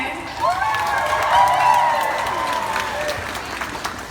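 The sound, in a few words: audience applause and cheering at sea lion show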